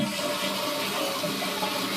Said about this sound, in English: you'll see now when I push down on the flusher,